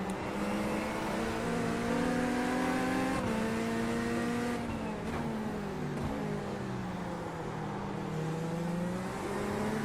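A Mazda MX-5 race car in iRacing, its engine loud and close as it climbs and falls through the gears, with revs rising, dropping and rising again through corners.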